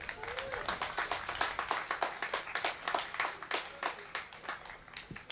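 An audience at a tourism awareness campaign launch in the BVI applauds steadily, with a dense patter of claps holding at a moderate level for the full stretch and no speech over it.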